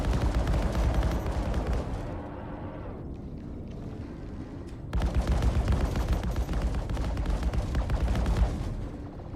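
Ship guns firing in the Star Citizen video game, a continuous dense barrage of rumbling gunfire that dips briefly mid-way, then resumes loud and sustained.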